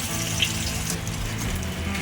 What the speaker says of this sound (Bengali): এই পেঁয়াজটা একটু ভালো করে ভাজবো